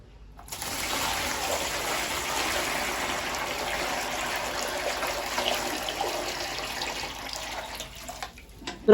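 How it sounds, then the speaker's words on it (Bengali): A container fills with poured water, a DC motor sitting inside it, as a steady gushing rush runs for about eight seconds before cutting off sharply. No voices are heard. "এবার আসুন এটাকে টোটালে জল দিয়ে একটু ফিল করে দিই"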